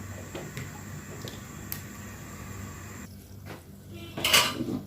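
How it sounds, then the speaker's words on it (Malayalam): A metal pan is set on the stove for deep frying, making light metallic clinks and scrapes against steady kitchen background noise, with a louder clatter near the end. "ഫ്രൈ ചെയ്യാനായിട്ട് നമുക്കൊരു പാൻ വെച്ചിട്ട് ചൂടായാൽ അതിലേക്ക് ഓയിൽ ഒഴിച്ച് കൊടുക്കുക"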